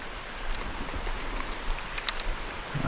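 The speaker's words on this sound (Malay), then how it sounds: "Hujan macam tak nak berhenti je kan." Heavy rain falls steadily while someone casts for snakehead in a flooded oil palm plantation. The rain makes a constant hiss with scattered sharper drop ticks and is close and fairly loud, with no talking.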